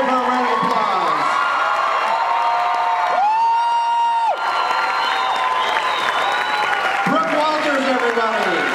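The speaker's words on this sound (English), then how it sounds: "please give them a warm Scary Farm round of applause" An audience at a Knott's Scary Farm 2013 haunt announcement event applauds and cheers the designers: a continuous roar of clapping and crowd noise with whoops and shouted voices over it.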